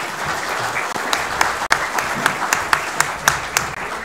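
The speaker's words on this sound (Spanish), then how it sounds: "el primer aplauso es para ustedes mismos" Audience applause at a public debate on a constitutional process and citizenship education, a steady dense wash of clapping with a few sharper individual claps standing out, fairly near and continuous throughout.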